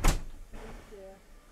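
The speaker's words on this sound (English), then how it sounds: "I'll quickly film the doors closing" A steam train's carriage doors close with a single sharp, heavy thunk at the start, followed by a soft rumbling tail and faint background murmur.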